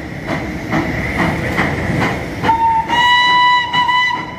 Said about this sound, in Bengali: ওই যে দূরে একটা ট্রেন চলে গেল।